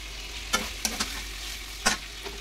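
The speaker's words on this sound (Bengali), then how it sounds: "মাংসটা কষানো চলছে" Meat being stirred in a hot pan, a few scraping spoon strokes over a faint steady sizzle, quiet and close with short gaps between strokes.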